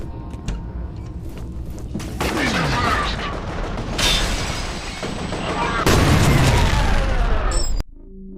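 Explosions and shotgun blasts in the shooter F.E.A.R.: loud, dense, booming bursts that overlap and keep going for several seconds, then cut off abruptly.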